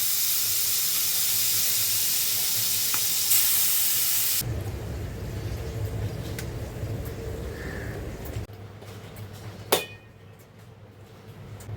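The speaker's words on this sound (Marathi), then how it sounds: "तर चला आपण कोलंब्या फ्राय करून घेऊ." Prawns fry in a small pan, a loud steady sizzle and hiss that drops in level partway through and softens again near the end, with a brief clatter.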